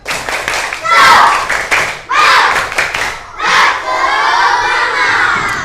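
A class of fifth-grade schoolchildren performs a rhythmic spirit clap chant, loud bursts of unison shouting and clapping in three surging phrases, the last one stretching into a sustained cheer.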